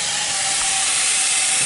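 Cold water runs from a tap into a kitchen sink as a steady, loud, broadband hiss that holds without a break, close and with no voices.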